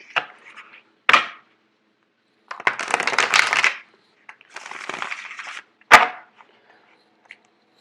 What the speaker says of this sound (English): I'm actually going to do one more shuffle.